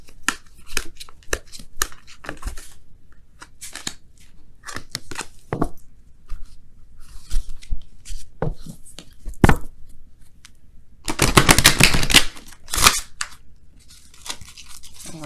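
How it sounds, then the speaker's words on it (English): Tarot cards being shuffled make a series of crisp riffling and flicking bursts, sparse at first, then a dense, louder run of shuffling before a few more scattered snaps. "I just want to do a quick little shuffle here"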